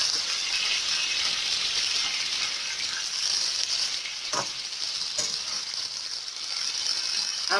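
Pork meat frying in a hot pan for curry soup gives a loud, continuous sizzle with a steady crackling hiss and a few faint clinks, and no voices.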